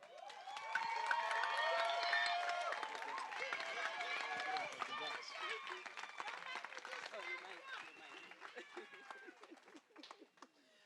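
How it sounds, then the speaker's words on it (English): An audience at a heritage honouring ceremony applauds in a dense, steady wash of clapping that swells early and then thins toward the end, with a voice carrying over the applause. "Please give them another round of applause."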